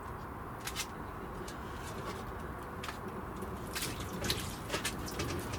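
Water is poured over potted plants in a watertight tray, making a soft steady trickle with scattered drips and splashes, while birds coo and chirp faintly in the background.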